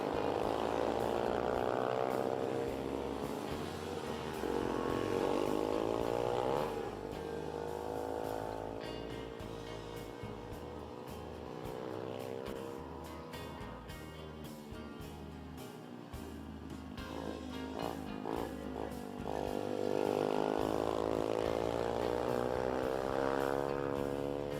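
Small-engined junior mini bikes, SM90 class, racing around a British circuit, their high buzzing engines rising and falling steadily as the pack passes nearby, with a commentator talking over it.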